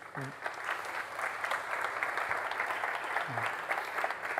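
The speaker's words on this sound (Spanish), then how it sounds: "Un aplauso para él, por favor" Steady, full applause from an audience at a technology conference in Málaga on generative AI, filling the moment evenly with a brief voice heard near the start and again toward the end.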